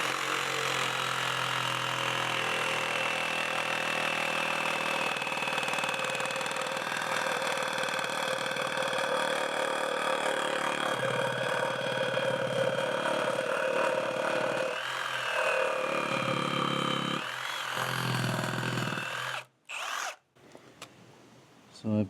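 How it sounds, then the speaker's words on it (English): Reciprocating saw plunge-cutting into a wooden deck post to notch it for a beam, a loud continuous buzzing drone that runs steadily for most of the clip before cutting off into brief stops and restarts. "Again, a plunge cut with a reciprocating saw."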